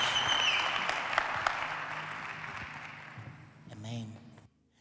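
Church congregation applauds for Brother Herbert, clapping strong at first then thinning and fading over a few seconds, followed by a short spoken voice before silence.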